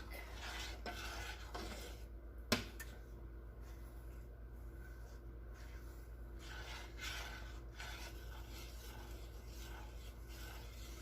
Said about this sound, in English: You gotta keep stirring until that cheese blends right in